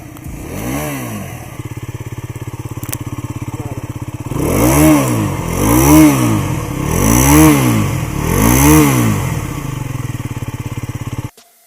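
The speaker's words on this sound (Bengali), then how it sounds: "চলুন না ইঞ্জিনের সাউন্ডটা শুনে আসি এখন" Race GSR125 motorcycle with an underbelly exhaust, engine idling with a slightly rough note, then revved close up in four rising and falling surges before cutting off abruptly.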